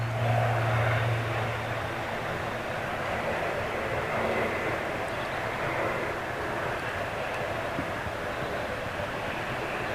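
Turboprop aircraft at Manchester International Airport, a steady engine drone with a low propeller hum that fades after the first second, then continuous rumbling at moderate distance, no talk.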